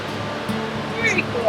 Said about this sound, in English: Oh yeah, we are right over top of the falls.